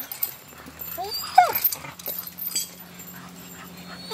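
A young female puppy whimpers and yips in short, high cries close by, with soft shuffling and quiet low noise between the sounds.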